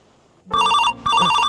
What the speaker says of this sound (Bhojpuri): उठाइए ना, फोन आ गया।